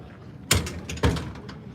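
A store entrance door opens with two distinct mechanical clunks about half a second apart, followed by a brief rattling whir, heard fairly close with no talking.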